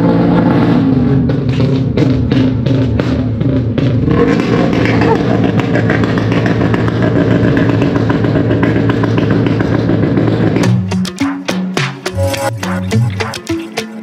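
A Suzuki Raider motorcycle engine roars loudly and continuously at an outdoor motorshow, then breaks into choppy revving bursts near the end, with a crowd and voices mixed in.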